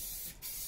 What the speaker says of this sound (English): I'm going to start spraying this silver now